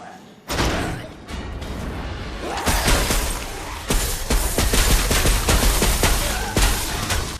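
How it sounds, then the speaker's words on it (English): Ice chain gun in Dead Rising 4, a snow cone maker rigged into a weapon, firing in a loud, dense stream of rapid thumping shots that runs several seconds after a brief pause at the start. "taking a snow cone maker and fitting it with technology gives you the ice chain gun"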